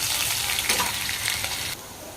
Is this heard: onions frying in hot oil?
yes